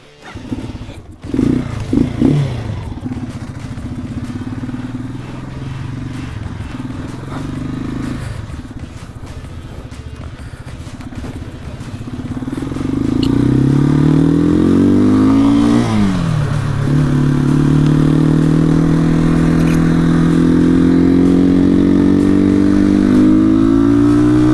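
A Janus Halcyon 250 motorcycle cranks with a few clattering attempts, then catches and settles into a steady single-cylinder idle. It rises to a louder rev with a sweeping throttle blip before holding a strong, close idle.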